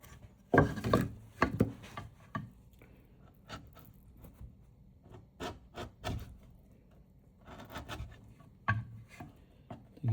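A chisel cutting cross grain on a wooden dragon stand, heard as close, irregular scraping and rasping strokes with pauses between them in a quiet room.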